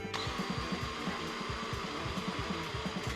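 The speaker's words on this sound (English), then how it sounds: "I'm just chucking them in a drill." A steady, loud whir of a power drill running continuously to unscrew corkscrewed mattress springs, with faint rhythmic clicking underneath and no pauses.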